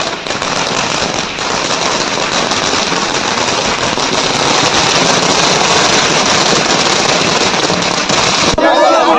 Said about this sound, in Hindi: उत्तरकाशी में बीजेपी कार्यकर्ताओं ने जमकर आतिशबाजी की है